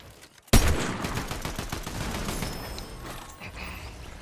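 Desert Eagle pistol fire in Fortnite, a sharp, loud shot bursting in after half a second, followed by a dense rattle of further gunfire and echoing reports that gradually thin out, with no speech.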